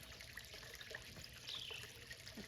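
Water trickles gently in a garden water feature ringed with impatiens, a faint, continuous dribble with soft scattered drips and no talking.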